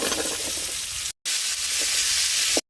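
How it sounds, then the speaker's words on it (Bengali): Radish sautéing in spiced oil with turmeric, chili powder and salt gives a loud, dense sizzle close by, with soft stirring scrapes and two brief dropouts. "এখন মূলাটা দিয়ে ভালোভাবে কষাই নেব।"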